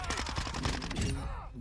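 Minibak submachine gun firing in Modern Warfare 2: a rapid, dense burst of automatic gunfire lasting about a second, loud and close, then cutting off into a fading tail.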